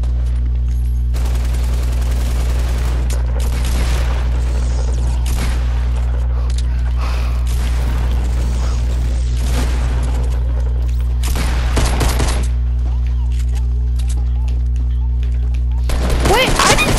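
Gunfire from a semi-automatic sniper rifle in a shooting game, heard as loud bursts of shots in clusters separated by quieter gaps over a steady low game hum, with speech mixed in.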